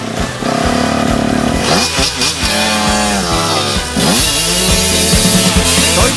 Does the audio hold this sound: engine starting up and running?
yes